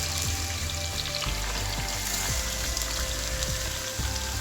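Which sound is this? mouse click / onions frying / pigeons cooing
onions frying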